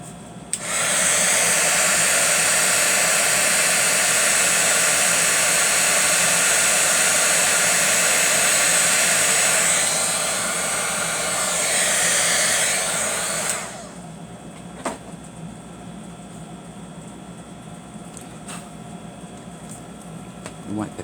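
A heat gun blows steadily and loudly for about thirteen seconds while heat-setting embossing powder on a chalkboard-style letter board craft, then cuts off, leaving faint room tone and a few small knocks.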